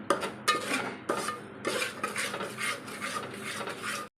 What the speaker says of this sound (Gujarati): આમ તાવેથાથી એને હલાવતો રહેવાનો એટલે નીચે ચોટે કે બળે નહીં